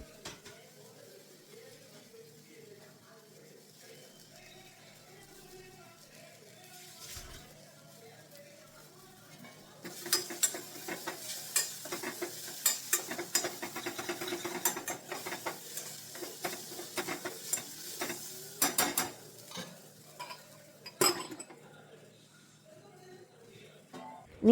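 Potatoes with ginger paste and green chillies being stirred in a pan, soft scraping and patter building up midway into a busier stretch of clinks and light sizzling, quiet and close, with faint low speech-like sounds early on.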